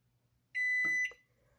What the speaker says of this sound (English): After holding that for 3 seconds, you will hear beep.